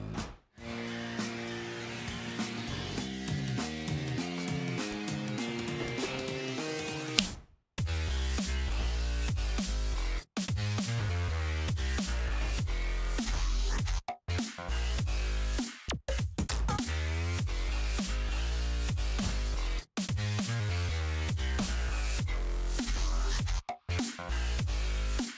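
Glitch hop track plays loud and dense, with a sustained melodic intro, then abrupt stuttering cuts and dropouts over heavy bass and chopped rhythmic layers.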